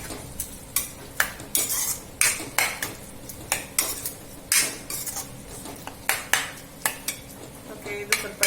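A spoon scrapes and clacks against a pan as bitter gourd curry with water, chilli and sambar powder is stirred, with repeated sharp knocks in an irregular rhythm over a faint background. It is close and moderately loud, with no voices.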